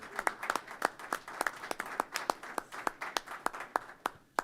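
A crowd at a Princeton Board of Education meeting gives the board a round of applause, a burst of steady hand claps that runs the whole time at moderate volume, with no talking over it.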